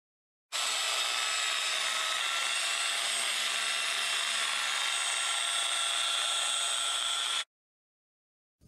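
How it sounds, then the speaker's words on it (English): A coarse buffing wheel with rubbing compound polishes car paint on a 1930 Ford Model A. A steady, loud, high whir runs continuously for about seven seconds, then stops abruptly. "He's using a coarse buffing wheel and clean cut rubbing compound."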